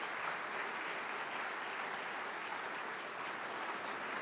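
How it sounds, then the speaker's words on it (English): Applause fills a hall during a senator's energy policy address, a steady wash of many people clapping, heard from some distance and fairly quiet, unbroken for the whole stretch. "let's give Bill Shonley, Mr. Oregon, a big round of applause."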